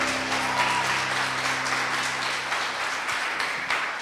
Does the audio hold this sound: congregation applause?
yes